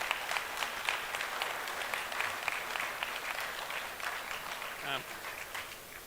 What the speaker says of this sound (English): I think they deserve a round of applause.